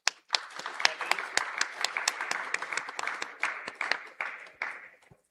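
An audience at a silver jubilee event breaks into applause, a dense wash of many hands with sharp individual claps standing out, sustained for several seconds before tapering off.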